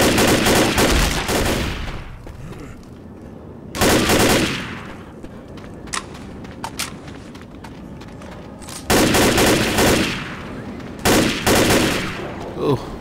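Bursts of automatic gunfire from a Left 4 Dead zombie shooter at a construction site, loud rapid volleys in several separate stretches with quieter gaps of scattered single shots between, and faint voices talking in the background.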